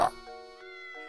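A single cat meow in the Professeur Layton et l'Étrange Village game, short and tonal with a quick sharp onset and a sustained, wavering harmonic tail, heard alone.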